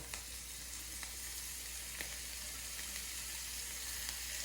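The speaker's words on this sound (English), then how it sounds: "this should sizzle pretty good when we hit the skillet" Steady sizzling of burger patties frying in a hot cast iron skillet, a continuous soft crackle with occasional small pops, fairly quiet and with no talking.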